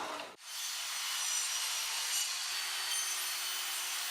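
Sliding table of an Evolution R255 TBL Plus table saw gliding along its rails after a short knock at the start, giving a steady close rolling rub for about four seconds with no talk.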